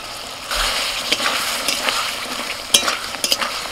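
Potatoes fry with ground spice paste in a pan, a steady sizzle with scraping stirs and a few sharper clatters of the spatula, close and fairly loud throughout.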